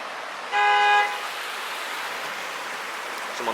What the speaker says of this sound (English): Someone honking their horn at the